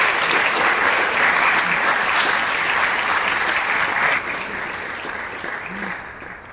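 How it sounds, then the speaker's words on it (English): Audience in Brisbane City Temple gives a round of applause after a Queensland Conservatorium performance, loud sustained dense clapping that fades slightly toward the end. "Give them a round of applause."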